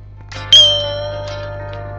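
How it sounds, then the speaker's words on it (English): A bright bell-like chime rings once on a children's read-along record, a clean sharp strike that decays slowly over a steady low hum, with no voice. "Remember to turn the page each time you hear the chime."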